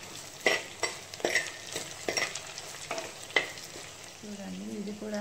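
Ajwain, cumin and curry leaves frying in hot oil, a steady close sizzle broken by sharp spatters and clinks of a spoon stirring the pan, with a low hum near the end.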